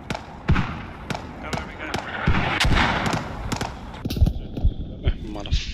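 Mortar impacts and gunfire in the video game Squad, sharp irregular booms and cracks scattered over a rumbling battlefield backdrop, with a player talking over them.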